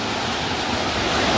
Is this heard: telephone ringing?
no